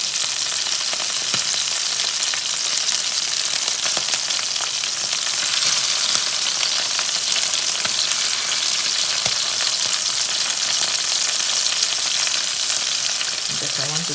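Fish pieces frying in a pan on one side after being flipped, a steady dense sizzle of hot oil running continuously and fairly loud throughout, with no talking.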